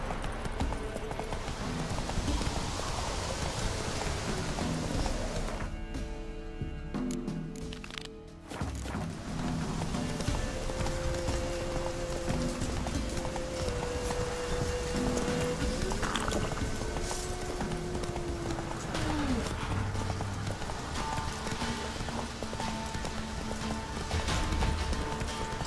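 Roach, a horse in The Witcher 3, gallops with steady rhythmic hoofbeats over a constant game backdrop, with a short dip partway through and tonal game sounds drifting in later.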